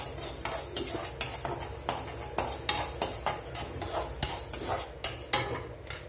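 Pepper, cinnamon, cloves, cardamom and mace are dry roasted in a pan for Chettinad masala powder, heard as rhythmic scraping and rattling strokes of a spoon against the pan, repeated roughly every half second, close and without talk.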